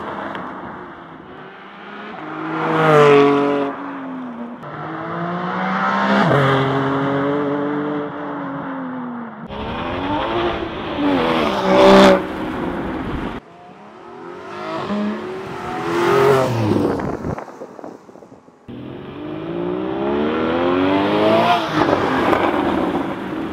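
A Porsche 718 GT4 with over-axle exhaust pipes accelerates through the gears in several loud runs, each rising engine note broken by quick shift pauses, a sharp rasp at the top of each pull.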